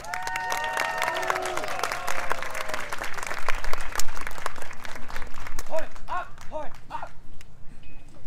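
Audience applause for a high school marching band at an outdoor olive festival, a dense burst of clapping and cheering that swells and then fades, with a voice on a loudspeaker over the start.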